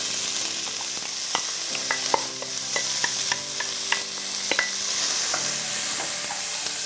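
Chopped onion sautés in butter and olive oil in a pan while making porcini mushroom risotto, giving a steady sizzle with scattered scraping stir clicks throughout, close and moderately loud, with no talking.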